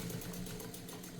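A Morse DuoMatic sewing machine stitching a longer stitch, a continuous close motor whir with a rapid steady needle rhythm, alone and without talk.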